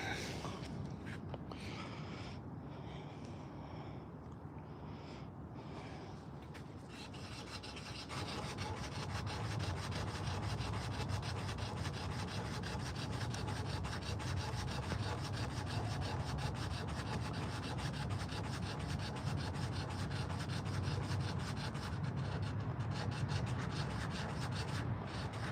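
A carved wooden spoon is sanded with a sandpaper-wrapped block in steady, rapid scratchy strokes, close and continuous, the rubbing growing denser and louder partway through.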